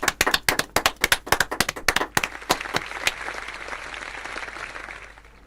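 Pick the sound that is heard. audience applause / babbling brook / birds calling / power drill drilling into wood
audience applause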